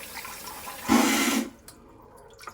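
A bidet toilet seat that has been leaking sprays water during a test: a half-second hissing burst, followed by faint drips and light knocks.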